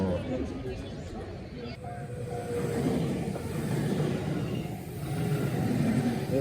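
A train at Fushimi Inari station in Kyoto gives a low, continuous rumble that builds slightly, with people talking nearby.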